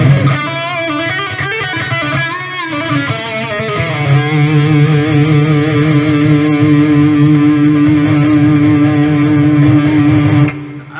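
Distorted electric guitar with reverb, played through amp simulation in Reaper, sustained chords and squealing notes ringing out loud and close for about ten seconds before cutting off.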